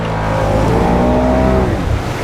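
Can-Am off-road vehicle engine revving hard while out in water, a loud close rising whine that climbs and then drops away.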